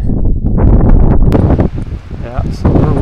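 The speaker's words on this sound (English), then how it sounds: "Yeah, super windy up here." Strong wind buffets the microphone high on a mountain near tent pads and a cairn above an upper lake, a loud rushing roar throughout with people talking under it.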